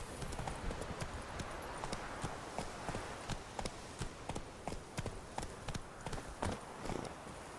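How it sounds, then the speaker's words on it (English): Horse hooves clip-clop steadily along a road in The Witcher 3: Wild Hunt, a regular walking rhythm of crisp, evenly spaced hoofbeats that stays close and clear throughout. "Whoa there, Roach"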